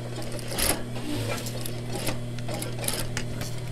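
A sewing machine running steadily as it stitches a fabric face mask, with a constant motor hum and a rapid needle chatter, close and continuous with no talk over it.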